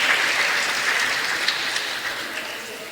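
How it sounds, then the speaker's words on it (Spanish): Conference audience applauding in a hall, a dense, even wash of many hands clapping at steady volume for about three seconds, with no voices over it. "Aplauso, aplauso."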